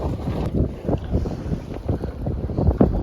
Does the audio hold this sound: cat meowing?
no